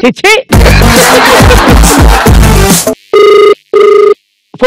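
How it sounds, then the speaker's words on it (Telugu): A telephone rings in two clear, evenly spaced tonal bursts, loud and close, after a short burst of noisy clatter. "ఫోన్ రింగ్ అవుతుంది"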